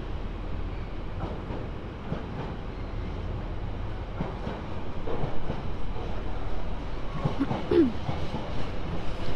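A long train rolls steadily through Basingstoke station on the South Western Main Line, wagons rumbling and clattering at moderate distance, growing slightly louder midway, with a faint wheel squeal near the end.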